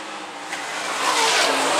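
IMCA modified race cars racing on the dirt track at Phillips County Raceway during the feature, a broad, loud engine roar that swells as the cars drive past.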